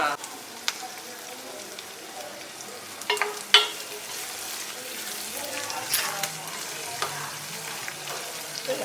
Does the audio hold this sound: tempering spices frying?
yes